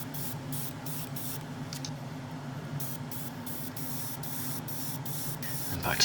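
An airbrush sprays paint onto the centre of a model car steering wheel for a Hasegawa Lancia 037 Rally kit, a steady close hiss broken by regular brief pulses.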